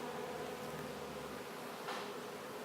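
A dense, continuous buzzing of a honeybee swarm close by, steady and droning with no speech.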